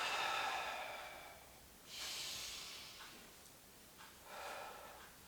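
Three slow, airy breaths in and out, close and soft, with hissing inhales and exhales spaced a couple of seconds apart and quiet pauses between them.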